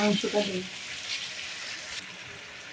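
Chicken meat drops into a pan of browned onion, garlic and tomato and sizzles, a brief clatter at first, then a steady, moderate frying hiss.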